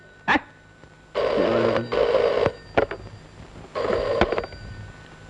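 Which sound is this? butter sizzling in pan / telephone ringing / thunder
telephone ringing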